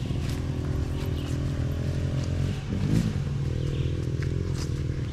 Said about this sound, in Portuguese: Olha, tem uma pessoal de moto.